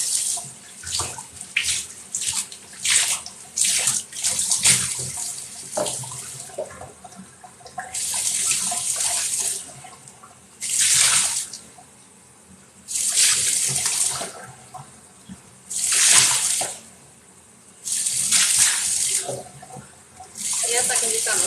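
Water from a kitchen sink sprayer comes in repeated hissing bursts, first rapid and choppy, then longer spurts separated by short pauses, with clattering dishes between.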